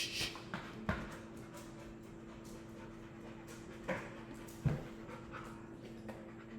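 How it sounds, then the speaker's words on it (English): A dog being let indoors pants softly and rhythmically with faint whimpers and a few clicks and thumps, quiet and close against a steady low electrical hum. "I gotta let my dog in"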